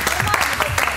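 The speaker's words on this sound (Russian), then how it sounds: "аплодисменты" Brief, dense audience applause at a TV-versus-radio game show, a quick burst of many clapping hands close by.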